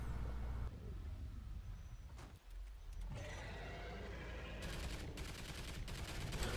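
Sentry guns and turrets fire at aliens in a video game. The shooting comes as a steady, fairly quiet hail of rapid shots with a brief gap partway through, then a harsher, denser spray toward the end.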